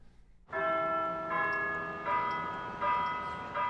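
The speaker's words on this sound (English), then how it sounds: "For whom does the bell toll?" A church bell tolls loudly and nearby, several ringing strikes overlapping in a sustained, resonant hum with no voices.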